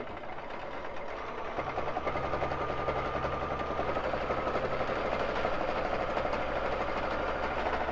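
Baby Lock Jazz II sewing machine mounted on a quilting frame runs continuously at steady speed during free motion quilting, a close, even mechanical whirr and rapid stitch rattle with a low hum, no voices.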